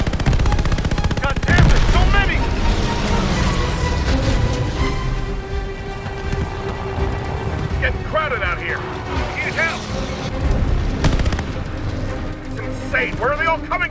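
Aircraft guns fire in sustained, loud bursts at Japanese Zero fighters during a Battle of Midway plane mission in Call of Duty Vanguard, over engine roar, with voices talking across the whole stretch.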